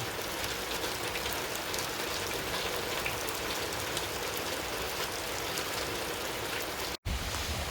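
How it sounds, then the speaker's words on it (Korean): A sudden heavy rain shower falls outdoors, a dense, steady hiss of downpour on surfaces that holds constant, with gusts of wind and no voices. "지금 갑자기 소나기가 오랜만에 힘차게 내리고 있습니다."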